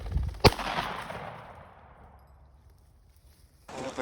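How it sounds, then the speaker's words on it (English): A single loud shotgun blast during an upland bird hunt in New Jersey, a sharp crack that rings out and decays over the open field, followed by rustling movement. "Get your gun up, Paul"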